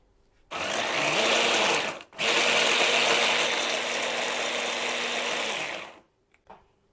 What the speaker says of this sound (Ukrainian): В блендері я буду робити крошку.